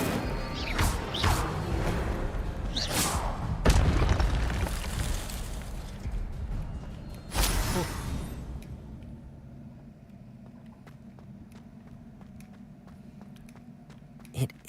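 A fire spell cast in the Hogwarts Legacy video game, with loud bursts and crackling whooshes that come in repeated waves, a strong blast near the middle, then a quieter low hum with scattered clicks.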